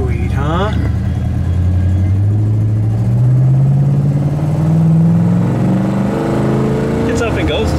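A 1967 Pontiac Grand Prix convertible accelerates, its big engine note climbing steadily in pitch and staying loud and close throughout, with other sound faintly underneath.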